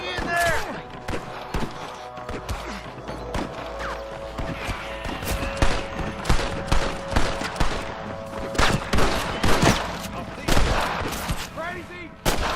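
Rapid gunfire from the Western video game Red Dead Redemption, a dense barrage of sharp shots with volleys and bursts over a continuous battle din, loud and steady throughout.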